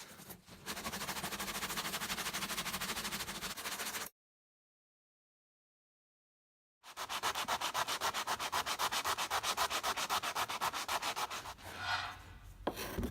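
Sandpaper rubbing off glue on a broken wooden chair, 80 grit on a foam pad: continuous fast scratchy strokes, loud and close, stopping for a few seconds of silence before resuming.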